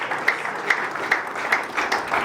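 A church congregation applauding during a sermon, a steady wash of clapping with periodic louder surges, fairly close and continuous throughout.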